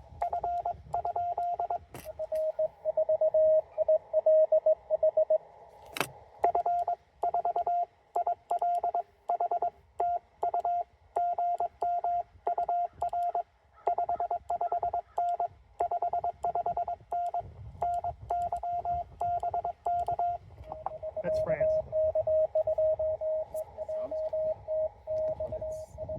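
A steady radio tone keys on and off in rapid Morse code dots and dashes from a TR-45L transceiver over hiss and crackle, outdoors at a state park, with a brief spoken remark partway through.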